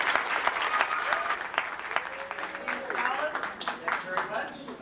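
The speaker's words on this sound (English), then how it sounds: "I think they deserve a big round of applause" Applause from the audience at a Washington Middle School awards ceremony, a dense, steady patter of many hands clapping in a hall for several seconds, with faint voices mixed in.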